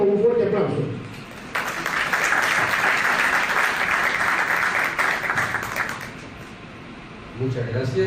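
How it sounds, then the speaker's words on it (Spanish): A crowd claps loudly for a speaker at a ceremony presenting issue 31 of a national historical archive's journal, steady applause in the middle, with a voice speaking before and after it. "a quien recibimos con un fuerte aplauso"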